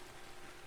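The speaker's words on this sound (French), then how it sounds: "Bien sûr, il faut qu'il se mette à pleuvoir." Rain begins in the ARK video game as a faint, steady hiss of falling drops on surfaces, continuous and quiet, with no talk.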